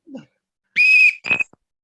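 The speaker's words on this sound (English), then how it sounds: "I got my whistle, my Welsh whistle" A Welsh whistle gives two shrill, piercing blasts, a long steady one and then a shorter one, close and loud in an otherwise quiet moment.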